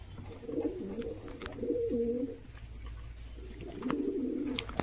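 Giribaz pigeons, a Bengali tumbler breed, coo in soft, throaty rolling phrases, with two long bursts near the start and another toward the end, against a faint background hum.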